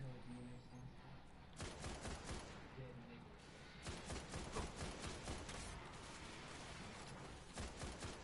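Gunfire in the video game Destiny crackles in rapid repeated bursts, a volley early on and a longer sustained stretch later, with a voice talking over parts of it.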